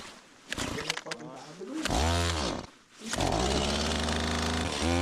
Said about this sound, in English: I'm curious to see if that chainsaw will start.